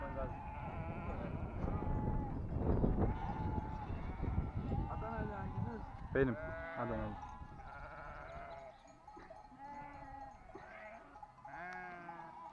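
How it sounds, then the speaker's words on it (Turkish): A mixed flock of sheep and goats passes at a high mountain pasture near a campsite in Trabzon, bleating repeatedly at varying distances, mostly beneath steady close talk, with some calls standing out clearly toward the end. "Keçi koyun karışık."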